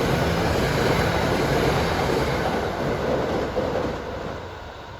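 Metro-North commuter train 851, bound from Grand Central to Poughkeepsie, rumbles past at Ardsley-on-Hudson in the evening; a steady, loud broadband roar of wheels and cars holds throughout, easing slightly toward the end.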